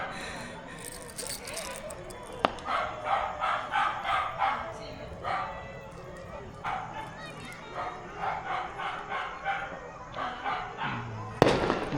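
Firecrackers bursting outdoors at a Karva Chauth celebration, a string of sharp pops and crackles in quick bursts that recur through the scene, with dogs barking and people talking nearby.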